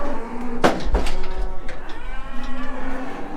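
A cow moos loudly and close by inside a farm shed, a deep drawn-out low, with other cattle calling in the background.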